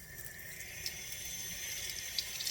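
Faucet running water over asparagus spears being rinsed: a steady, hissing stream splashing quietly and continuously, with no talking.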